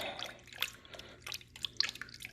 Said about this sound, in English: Once you got your yeast in there, just kind of stir it around again.